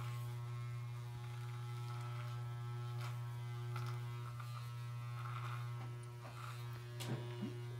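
An electric beard trimmer with a guard runs close up as it trims a mustache, a steady loud mains-pitched buzz with small changes in tone as it presses against the hair.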